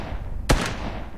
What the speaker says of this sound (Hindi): ये लो थोड़ा सा बॉट फायर लो